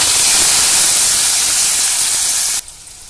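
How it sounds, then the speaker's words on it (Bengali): Potato pieces hit hot spice tempering in a pan for a vegetarian mushroom dish, giving a loud, steady frying hiss that runs continuously, then drops abruptly to a quieter sizzle near the end. "এই ফোড়নের মধ্যে দিয়ে দিচ্ছি ছোটো করে কেটে রাখা আলু টুকরোগুলো দিয়ে ভালো করে কষে নেব"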